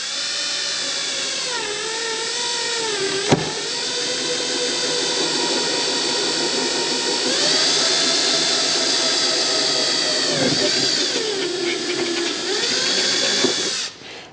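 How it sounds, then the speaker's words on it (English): A power drill bores through a fiberglass board and wood on an RC jet wing, whining loudly with pitch that sags and climbs as the bit bites, in several long runs separated by brief pauses and sharp clicks. "when we drill this, we're going to be drilling through the fiberglass board,"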